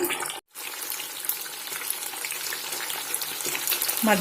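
Fish fries in hot oil in a home kitchen with a steady, dense crackling sizzle, loud and close, continuing throughout after a brief dip near the start, with no talking.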